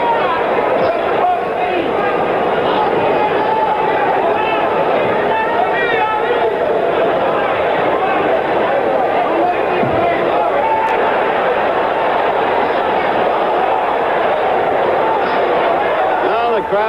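A boxing arena crowd at a 1977 heavyweight championship bout between Muhammad Ali and Alfredo Evangelista voices its displeasure with a loud, sustained roar of booing and jeering, which runs throughout under a commentator's voice.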